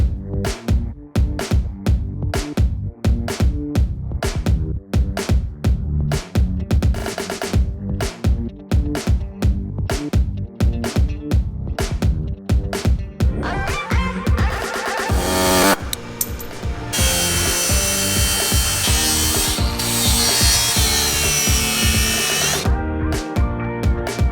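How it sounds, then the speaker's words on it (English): Power tool work on a steel lower control arm bracket during a Jeep Gladiator lift kit install: rapid repeated bursts of whirring at first, then a steadier, brighter grinding whine, close and loud with no speech. "then I'll get the grinder and I'll make a nice smooth surface"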